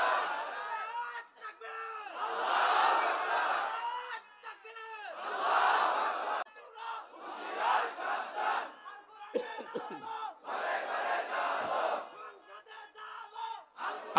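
A crowd at an Islamic sermon roars the takbir, Allahu Akbar, in repeated loud unison chants, four big swells separated by short gaps with scattered individual shouts between them.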